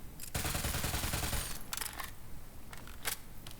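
A gun in Borderlands 3 fires a rapid burst of sharp, loud shots, followed by a few shorter separate bursts, with no talk over it.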